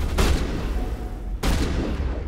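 Gunfire from weapons in Mass Effect Legendary Edition on Insanity difficulty, during the Hot Labs mission: two loud, close bursts of shots, one near the start and one just before the end, with a steady combat rumble between them.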